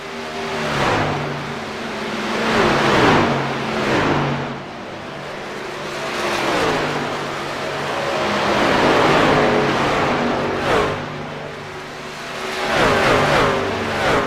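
Race trucks in a Truck Series evening race at Charlotte Motor Speedway, a narrow 1.5-mile oval, roar past in repeated waves of engine noise that swell and fade as the pack laps the track.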